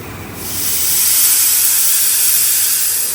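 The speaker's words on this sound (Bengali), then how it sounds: "প্রেশার কুকারে বসায় দিয়েছি আমার প্রেশার কুকার হুইসেলটা শুনলে পুরো বাংলাদেশ বাংলাদেশ মনে হয়" Steam hisses hard from a pressure cooker on a home kitchen stove, swelling after a quiet first half-second into a loud, steady, broadband rush with a faint high whistle tone riding on top, and no voices.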